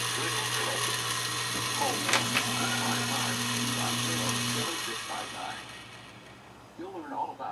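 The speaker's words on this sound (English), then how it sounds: "this is only a one-way motor" Motor of a motorized green screen running one way, a steady mechanical whir with ratcheting clicks that stops partway through, followed by faint speech and background noise.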